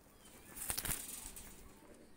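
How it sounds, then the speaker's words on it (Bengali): Two Oman Teddy pigeons are released, and a quick, faint flutter of flapping wings rises and fades within a second against quiet background. "কবুতর দুইটা ছেড়ে দেখাচ্ছি দেখেন।"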